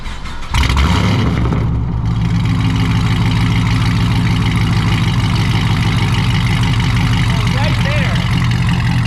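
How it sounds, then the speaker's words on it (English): A Camaro SS fitted with a straight pipe exhaust starts with a sharp bark and settles into a loud, deep, lumpy idle. The engine is heard close, and voices talk over it. "So that's just the idle and the startup. It's already crazy loud."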